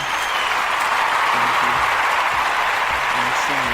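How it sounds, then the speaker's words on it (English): Close, steady applause from a small crowd, with a voice talking low over the clapping throughout. "Give my brother a round of applause."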